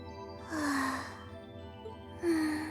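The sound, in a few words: loud sleeping breathing without snoring, from video game Trails of Cold Steel II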